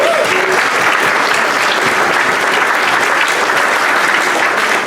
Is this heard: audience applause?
yes